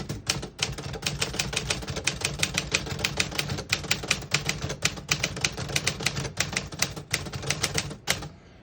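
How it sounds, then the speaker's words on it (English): Typing on a 1949 Smith-Corona Silent portable typewriter, a steady run of crisp key strikes at an even brisk pace, close and clear, ending with a softer mechanical settle. "I'll type a sentence in red on the next line"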